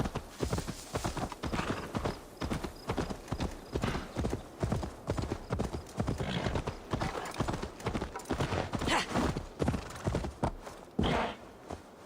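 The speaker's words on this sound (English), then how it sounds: "I guess this horse just has one speed." Rapid, rhythmic horse hoofbeats from Assassin's Creed Valhalla clip-clop at a steady pace throughout, fairly close and continuous, with no talking.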